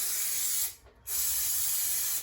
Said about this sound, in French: Je ne sais pas si on va voir quand je spray.